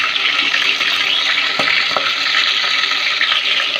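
Mustard seeds crackling in heated oil for a mutton rasam, a steady dense sizzle with a few sharp pops, close and fairly loud, no talking.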